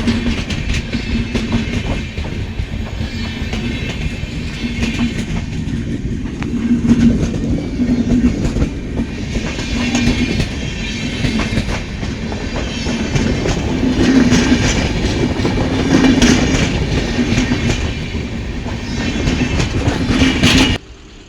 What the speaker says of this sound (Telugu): మిర్యాలగూడెం రైల్వే స్టేషను ట్రైన్ పోతూ ఉంది